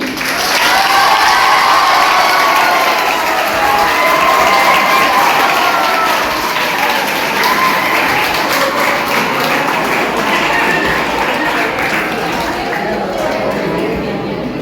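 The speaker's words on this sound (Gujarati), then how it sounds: "તો ફરીથી એકવાર હું ઈચ્છીશ કે તમે તમારા ઉત્સાહ માટે તાળીઓ પાડી દો." At a Raksha Bandhan celebration in Kukarwada, a crowd of school children claps and cheers for a long stretch. The applause is loud, dense and steady, with crowd voices mixed in.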